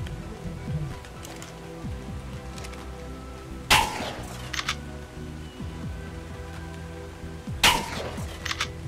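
Two sharp gunshot bursts from a video game, widely spaced, standing out over a steady background of game ambience and music.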